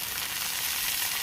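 Gourd leaf shoots frying in a pan with onion, garlic and chili give a loud, even sizzle, heard up close for a brief moment with no voices.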